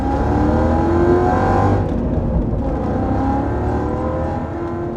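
A BMW wagon's engine, rated at 470 Nm of torque around 5,000 rpm, revs up loudly under acceleration, its rising tone holding steady for several seconds with no talking.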